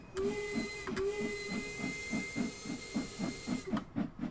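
A steam train on the Bakerloo Line gives a sustained whistle tone over a hissing steam background and a steady rhythmic chuffing beat, fairly close and continuous, with no talking.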